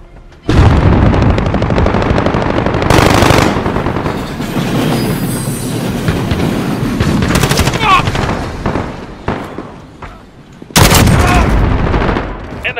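Near-constant automatic gunfire and explosions in a Call of Duty Modern Warfare domination match, loud bursts and booms layered over background battle noise, with announcer-style voices speaking during the firing.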